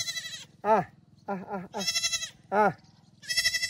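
A goat bleats several times, wavering cries spaced a second or so apart, alternating with close, loud human voices in between.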